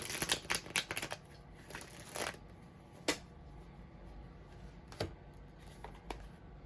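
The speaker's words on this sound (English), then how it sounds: "I saw it when I was shuffling and now it came out." Tarot cards shuffled by hand in quiet, soft bursts of riffling and flicking, with a few sharper taps as the deck is squared, all faint and close with no talk.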